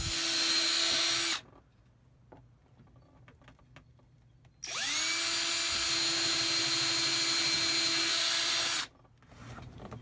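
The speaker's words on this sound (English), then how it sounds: "I can use his power tools and electricity to cut it out." A power tool cuts out a traced template piece on a boat in Puerto Rico, whining loudly in two sustained bursts, one short and one about four seconds long, separated by a quiet gap.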